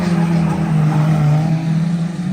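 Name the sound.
car engine revving and tires skidding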